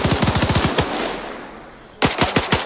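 Rapid automatic gunfire sprayed into a bush: a fast, even string of sharp close shots, then a short lull of lingering rumble before another quick burst, loud and without voices.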